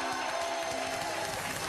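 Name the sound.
audience applause on the TV quiz show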